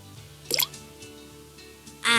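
Rock dropped into a container of water, one short plop and splash, followed near the end by a brief second splash, quiet indoors.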